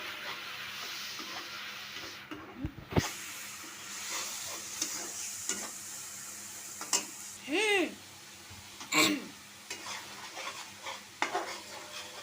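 Ground spice masala of coriander and red chilli powder fries and is stirred in a pan for a vegetable curry, with soft sizzling, scraping stirs and a few louder clinks of the spoon, under light background noise.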